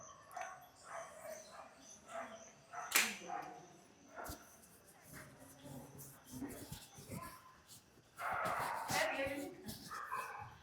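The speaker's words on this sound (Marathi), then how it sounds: "कोणाचे पाळीव कुत्रे आहेत का ते?" Pet dogs bark and yip faintly and intermittently at a devotional gathering, mixed with distant voices and room noise.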